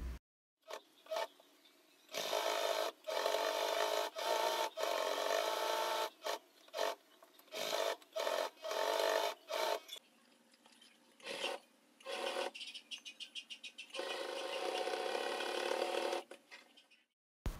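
A domestic sewing machine stitches along the edge of a fabric bag lining with a pocket in repeated runs of a few seconds, each a steady mechanical whir broken by short pauses, close and fairly loud.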